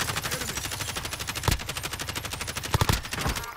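Rapid gunfire in Call of Duty: Warzone, with sustained automatic bursts rattling throughout and a few heavier, louder shots standing out near the middle and end.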